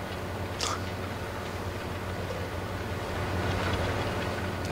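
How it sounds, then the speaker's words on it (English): A train rumbles past in a farming video game, a steady low mechanical drone with faint clattering that swells slightly toward the end, with no speech. "That's the first time I've seen the train go in that direction."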